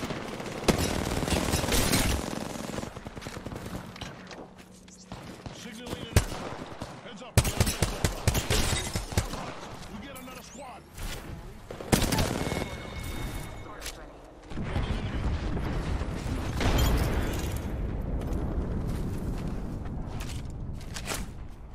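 Heavy gunfire from a Longbow sniper rifle and other weapons in a video game blasts loud and near in repeated bursts and booms, with battle noise continuing throughout.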